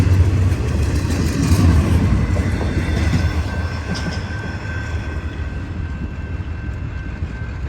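Continuous heavy rumble of a westbound BNSF intermodal freight train passing close by, wheels grinding with a thin squeal and clatter, slowly easing in loudness.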